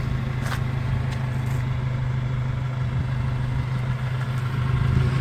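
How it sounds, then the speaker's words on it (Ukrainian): A Toyota 8FG50N gas-powered 5-ton forklift engine idles nearby with a steady low hum and smooth, even rumble, a couple of faint clicks over the top. "Двигун працює м'яко."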